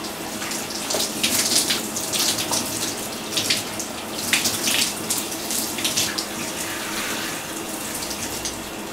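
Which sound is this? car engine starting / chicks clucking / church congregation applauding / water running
water running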